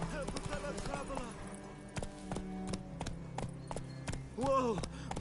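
Horse hooves clip-clop steadily in The Witcher 3 as the horse runs along a road, mixed with game music and character voices talking over the rhythmic footfalls.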